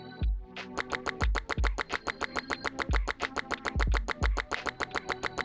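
A voice imitates duck quacks for a game sound effect, a rapid run of short nasal buzzing quacks in a steady rhythm, close and loud, with a few lower thumps mixed in.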